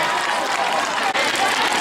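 A church congregation claps together in a brief burst of dense, steady applause that fills the room, with no clear speech over it.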